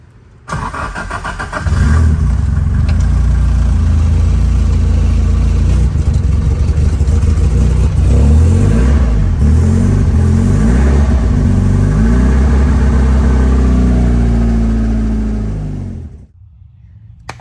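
A Datsun 510 with a swapped SR20 engine, started after sitting four years on old fuel, cranks and catches, then settles into a loud, close idle with a few revs before shutting off.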